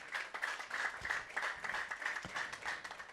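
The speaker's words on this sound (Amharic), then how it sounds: "ለዚህ ጌታ አጨብጭቡለት።" A church congregation claps together in a steady, moderately distant patter of applause lasting a few seconds, with no talk over it.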